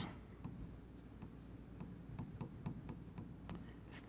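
Chalk or marker strokes on a classroom board during a physics lecture, a faint series of irregular scratchy taps and short scrapes over low room hum, with no talking.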